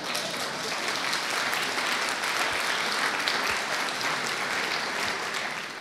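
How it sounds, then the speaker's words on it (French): A group applauds steadily, dense and continuous clapping at even loudness throughout with no talk over it. "On peut les applaudir."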